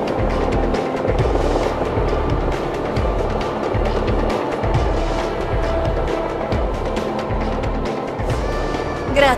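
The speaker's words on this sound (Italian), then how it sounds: "L'elicottero di Nishimura ti aspetta fuori." Helicopter in the video game Tomb Raider Legend: a steady, loud rotor and engine roar with pulsing low thumps fills the scene throughout.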